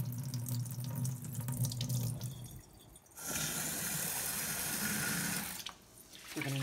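Milky rinse water is poured off rice in a pot into a sink, a steady splashing stream with a brief break midway, close and without talk.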